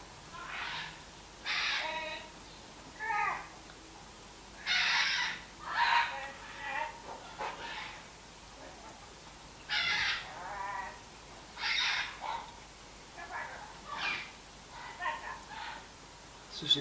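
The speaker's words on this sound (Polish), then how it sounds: "Słyszycie? Moja papuga rozmawia fajnie." A parrot chatters in short, speech-like squawks, repeated bursts separated by brief pauses, fairly faint against a quiet background.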